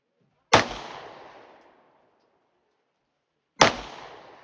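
Two loud pistol gunshots at a shooting range, a few seconds apart, each a sharp close crack with a long ringing decay, and no talk between them.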